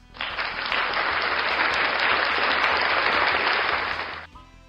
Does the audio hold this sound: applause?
yes